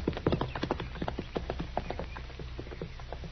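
A horse is led in, hooves clip-clopping in a quick uneven rhythm on hard ground, fairly close and loud, with a faint whinny and no talk.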